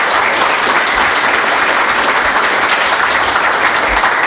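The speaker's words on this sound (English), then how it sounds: "Applause." Audience applause breaks out at the close of a technical conference talk on Ceph storage, a steady, dense wash of many hands clapping that holds at an even level throughout, with no voices heard.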